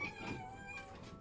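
A cat meows in one drawn-out, wavering cry, fairly close and clear against quiet surroundings.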